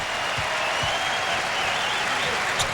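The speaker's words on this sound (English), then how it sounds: "a nice warm round of applause for the senior point guard" A crowd in a basketball arena gives a warm round of applause for a senior point guard during a Kentucky versus Ole Miss SEC Tournament championship game, a broad sustained roar of clapping with a few sharper pops in the mix.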